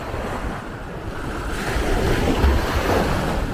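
Sea waves washing in on Leasowe beach, a continuous surf roar with gusty wind buffeting the microphone, building slightly halfway through.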